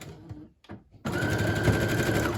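A sewing machine backstitching dainty lace onto a pamphlet cover runs in a steady, close, continuous whir after a few brief starts and pauses.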